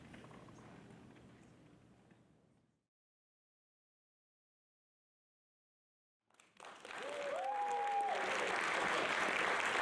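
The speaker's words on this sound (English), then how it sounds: "Round of applause for Boyz in the Hood." Audience applause at a film celebration and panel, a broad wash of clapping that fades into a few seconds of silence, then comes back loud and full with a faint tone running through it.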